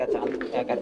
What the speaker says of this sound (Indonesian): Oh, ini burung kolong nih.